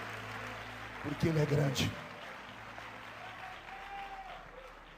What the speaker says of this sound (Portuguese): os que podem, tomem o seu assento, aplaudindo a Jesus, porque Ele é bom